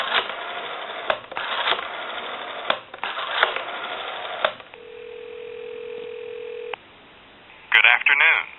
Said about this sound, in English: I want to go ahead and give you some dial tone